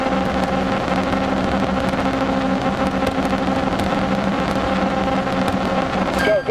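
Rally car engine in DIRT Rally 2.0 holds a steady, loud drone with harmonic whine as the wheels spin, continuous throughout, with a brief pitch sweep near the end.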